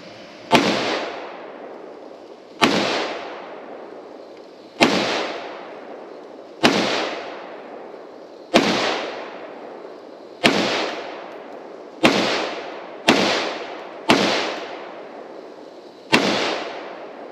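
A DSA FN FAL Para carbine rifle fired with a surplus magazine: eleven loud, sharp gunshots at a steady pace, the last few quicker, each with a short echoing decay outdoors, no talk.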